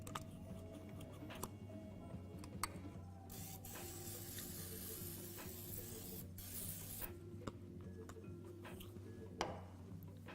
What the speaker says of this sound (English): we're just going to spray this with a little bit of grapeseed oil